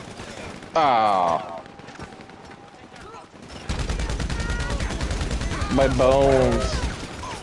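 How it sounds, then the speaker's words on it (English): Assault shotgun fire in GTA Online, a run of booming shots under game noise, with someone talking over parts of it. "You gotta get really close to using the assault shotgun."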